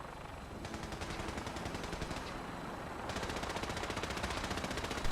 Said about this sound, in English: So who's shooting and where are they?